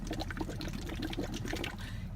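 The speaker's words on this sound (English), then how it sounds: "Why are you blowing bubbles?" A child blows bubbles into water during a cough-related physical therapy session, giving a steady low bubbling gurgle with rapid irregular pops, close and fairly quiet, continuous for the whole stretch.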